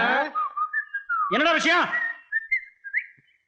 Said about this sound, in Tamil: அதான் பதில் கூட விசில்லே வருது.